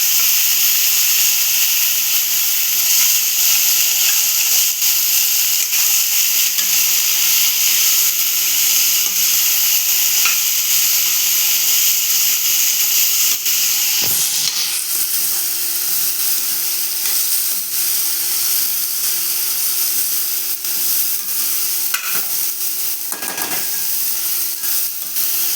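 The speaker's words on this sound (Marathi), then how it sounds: "इथे आपण 1-2 मिनटं भाजी परतवून घेतलेली आहे." Ghevda beans and potato sautéing in a pan, a loud continuous sizzle with occasional spatula scrapes and clinks across a long stretch, no talking.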